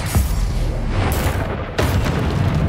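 A Confringo spell blast in Hogwarts Legacy lands as a loud, continuous booming rumble. A sharp second burst near the end renews it, with no one talking.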